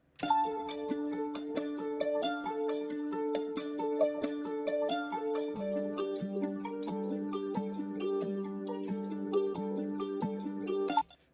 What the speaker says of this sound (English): So the first sound I added was a acoustic guitar